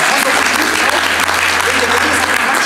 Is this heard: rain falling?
no